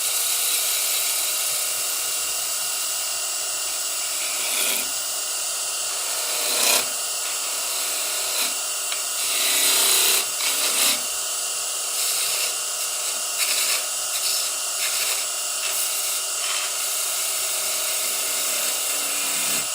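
Light hand cuts into wood while carving a small ornament, giving a steady scraping, rasping texture with brief louder strokes and short pauses, close and continuous throughout.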